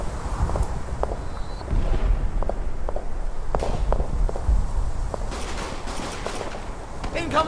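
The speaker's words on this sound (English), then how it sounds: "Incoming artillery fire!" Artillery and gunfire in the World War I game Verdun rumble continuously in the background, with scattered sharp shots and distant blasts under shouting soldiers' voices.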